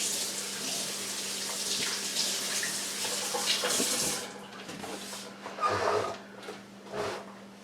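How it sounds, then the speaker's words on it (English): Hands are rinsed under a running kitchen tap while baking tea time tassies, a steady close splashing hiss of water for about four seconds, then intermittent splashes as the flow is interrupted, with no talk. "what I'm going to do is rinse my hands"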